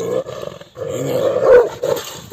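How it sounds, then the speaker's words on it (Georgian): An 11-month-old Georgian shepherd puppy, a nagazi, growls and grumbles close by in a low, throaty rumble that rises and falls over a couple of seconds, with a brief pause partway through. "ნახეთ რა შვება 11 თვის ლეკვი."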